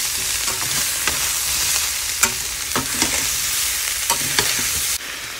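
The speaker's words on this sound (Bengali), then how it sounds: "গাজর, আলু, বরবটি একসঙ্গে ভাজা করছি" Cauliflower, carrot, potato and beans stir-fry in a wok with a continuous sizzle, broken by several sharp scraping and stirring clicks at irregular intervals, close and with no voices.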